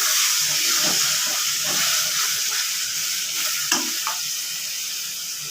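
Ground spice paste goes into browned onions frying in a pan for a chicken dish. A loud, steady sizzle and hiss carries throughout, with a few stirring clicks and scrapes up close and no talking.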